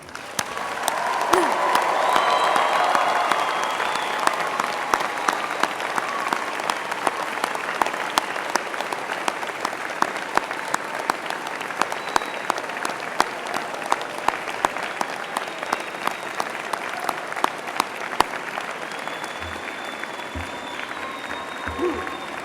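A large audience at a university convocation ceremony gives sustained applause, a dense wash of clapping that peaks early and then carries on steadily for over twenty seconds.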